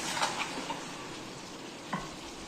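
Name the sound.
stirring eggs and potatoes in a frying pan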